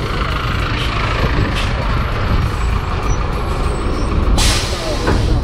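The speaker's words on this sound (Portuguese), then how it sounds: "Esses aí são os ônibus do transporte." A city bus in Santos, Brazil, with air brakes, rumbling loudly and steadily nearby in street traffic, with a sharp hiss of released air near the end.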